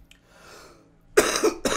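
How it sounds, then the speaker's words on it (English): A single character in the war survival game This War of Mine: The Last Broadcast coughs, two or three close, sharp bursts after a quiet, breathy stretch. "I needed to cough."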